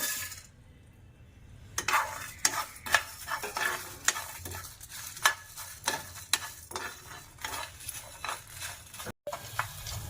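Cardamom and whole spices dry-roasting in a pan, with repeated sharp stirring scrapes and clinks of a spoon against metal over a low background hiss, no voices.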